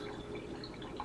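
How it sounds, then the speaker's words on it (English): Water draining from thawed frozen chicken into a sink: a faint, steady trickle and drip, close and brief. "we're just gonna drain our water first"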